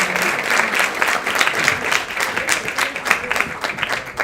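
A crowd at a student conference session gives a round of applause for the speakers, loud, even clapping from many hands sustained throughout, with no voices over it.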